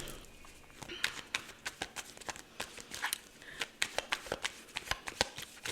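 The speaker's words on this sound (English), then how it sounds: "Let's pull some cards" Tarot cards being shuffled by hand, a quick series of crisp riffling slaps and flicks repeating in an uneven rhythm, close and fairly quiet.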